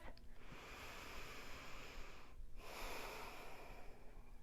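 A single long, breathy inhale and exhale taken during yoga practice, soft and close with a brief pause midway, no speech.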